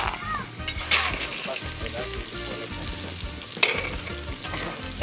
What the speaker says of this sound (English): she put in some oil into the clay pot and then she's just frying the almonds